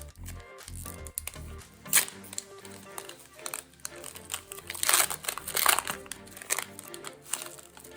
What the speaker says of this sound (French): le booster est dur à ouvrir.